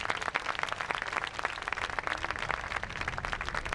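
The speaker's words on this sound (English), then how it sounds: "let's give the Department of Corrections another round of applause" Sustained audience applause at a National Day of Peace ceremony in Bermuda, a dense, steady patter of many hands clapping throughout with no speech over it.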